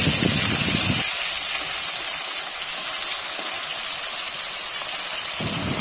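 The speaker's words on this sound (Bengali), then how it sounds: "তো মাছের এক পিস ভাজা হয়ে গেছে আমি এখন উল্টে দিচ্ছি" Fish pieces frying in a pan give off a loud, continuous close hiss, with lower rumbling bursts at the start and end as the pieces are flipped.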